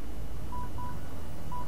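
Telephone tones from the Fallout Shelter video game: three short electronic beeps, evenly pitched and spaced, sound over a low background hum with no talking.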